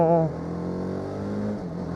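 TVS Apache RR310 motorcycle engine, choking, gives a brief rev at the start and then settles into a rough, steady idle close by.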